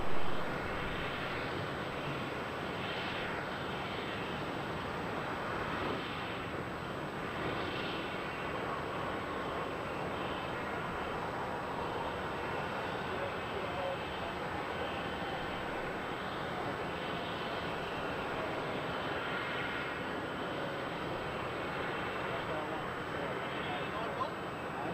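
Jet airliner taking off from runway 34 at Melbourne Airport, a continuous broad engine roar held at steady loudness throughout, with radio chatter from air traffic control over it.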